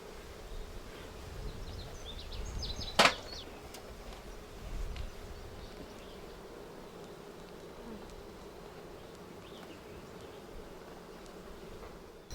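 Honeybees hum steadily around an opened, queenless hive, a soft continuous buzz nearby with one sharp click partway through and quiet handling noise.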